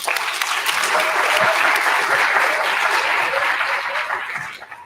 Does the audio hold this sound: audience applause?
yes